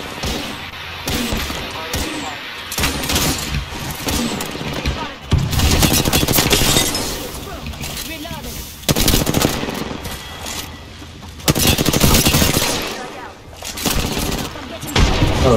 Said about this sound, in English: I can't see him, I'm just shooting him